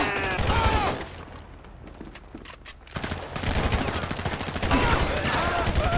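Dense automatic gunfire in Grand Theft Auto V gameplay on a PS4 Slim rattles in rapid, loud, close bursts, easing for a moment before resuming heavily, with shouted voices mixed in.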